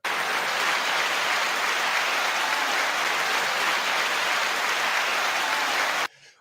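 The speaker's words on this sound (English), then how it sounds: "9-second applause to that." A crowd gives a dense, steady burst of clapping that sounds close and loud. It holds for about six seconds and then cuts off abruptly.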